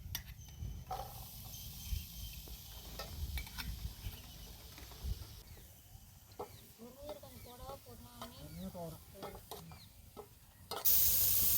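Carrots, beans and drumstick leaves are sautéed with green chillies in oil in a village kitchen, giving a steady low sizzle with scraping stirs throughout and a louder burst right at the end.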